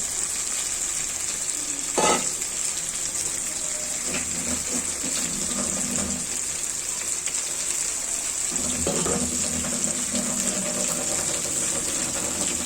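Chicken and pointed gourd fry in a pan with a continuous close hiss and sizzle, broken by a few scraping stirs and clinks along the way, with no talk.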